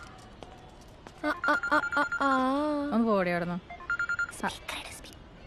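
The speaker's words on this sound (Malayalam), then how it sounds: "എന്റെ ഫോൺ അടിക്കുന്നുണ്ട്" A mobile phone rings nearby with a bright, melodic electronic ringtone in repeating phrases, while someone speaks briefly over it.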